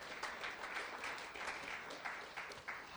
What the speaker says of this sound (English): So let's give them a big round of applause to thank them for their support.